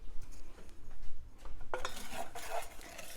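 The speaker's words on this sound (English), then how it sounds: "Let me get a spoon" A metal spoon clinks and rattles as it is picked up and handled, a short close clatter of cutlery after a quieter stretch, with no talk.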